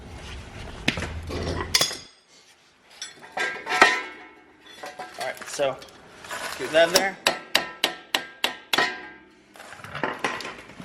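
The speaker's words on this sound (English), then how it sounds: "you're gonna need to hammer that probably a little bit" Metal tools strike and clank against a Mitsubishi rear axle while the wheel bearing is removed, with scattered knocks and a quick run of sharp evenly spaced hammer blows near the end, and someone speaks briefly.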